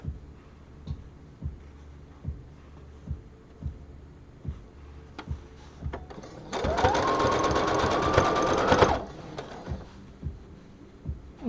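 A sewing machine sews a long, loose stitch, starting with slow, evenly spaced single thumps and then breaking into a fast, continuous whirring run of a few seconds before dropping back to isolated clicks.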